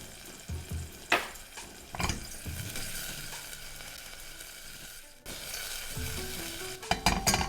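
Vegetables and garlic sautéing in a pan with a pinch of salt, giving a soft, steady sizzle with occasional stirring scrapes and knocks, fairly quiet and close.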